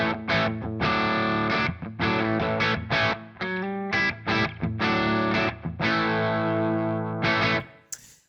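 Distorted electric guitar riffs through a Browne Amplification Protein pedal switched off, chugging chords and short bursts with brief pauses, loud and close, ending with a noisy click.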